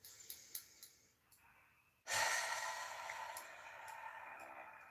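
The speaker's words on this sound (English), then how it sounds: "take a deep breath" A single deep breath during a tapping healing prayer, drawn as a long, close, airy rush that swells suddenly and holds for several seconds, after a few soft taps.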